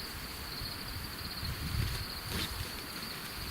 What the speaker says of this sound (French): Parce qu'après on a encore le son des grillons, des renards, comme d'habitude quoi.